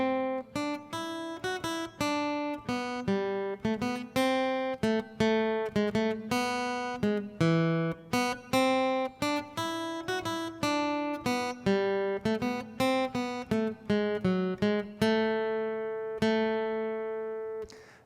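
A plucked guitar melody of single notes from "What Child Is This" (Greensleeves), played at a moderate, even pace with clear separate attacks ringing alone, ending on a held note.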